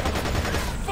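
Sustained SMG fire in Splinter Cell: Conviction, a dense, loud, continuous rattle of rapid shots filling the whole second.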